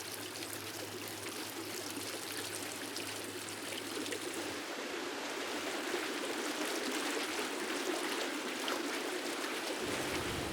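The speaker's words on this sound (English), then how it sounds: "the sound of running water echoes in the cave" Running water from a waterfall in a Japanese garden, a steady broadband rush and splash echoing in a cave beneath the falls, continuous and close, growing slightly fuller partway through, with no talking.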